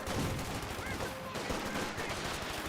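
Gunfire in the Company of Heroes 2 video game, with dense rattling bursts and machine-gun fire filling the battle soundscape, loud and continuous.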